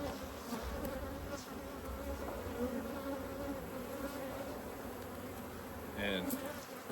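Honeybees hum steadily around an opened hive frame packed with brood, a dense close buzz lasting throughout, with a few individual bees zipping past near the end.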